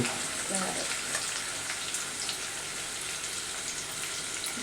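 Onions, carrots, beans and chillies fry in a pan after ginger and garlic, giving a steady, close sizzling hiss that runs evenly throughout with faint stirring clatter.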